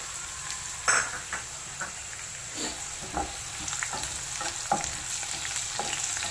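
Four small dried red chillies fry in hot oil for a tomato dish, giving a quiet, continuous sizzle broken by occasional stirring scrapes and light knocks against the pan, with no talking.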